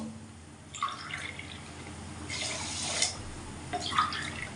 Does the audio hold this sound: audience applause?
no